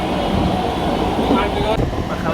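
A running train in rain, a steady loud low rumble and rattling rolling on throughout, with faint voices mixed into the noise.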